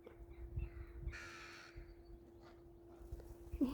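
Birds call around a rural house: a crow caws loudly in a short burst, then fainter scattered calls follow against a quiet background with a steady hum.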